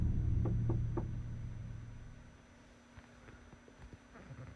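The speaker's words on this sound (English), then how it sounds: "Did somebody knock?" Someone knocks on a camper van door at about 2 a.m. in the woods. Three quick, sharp raps come early over a low rumble, then a few faint, scattered taps follow in the quiet.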